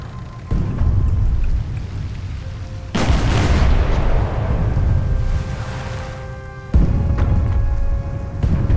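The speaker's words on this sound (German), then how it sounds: "Die Kanone." Cannons fire in the Age of Empires 3 video game as heavy booming blasts, several loud reports with rumbling decay, spaced a few seconds apart and overlapping battle noise, with no talk.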